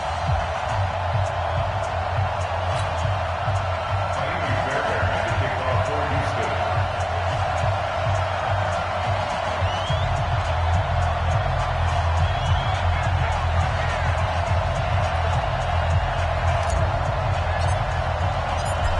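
Stadium crowd noise from an EA Sports NFL video game before a Houston Texans versus Baltimore Ravens matchup, a steady loud roar of many voices throughout with some scattered cheering.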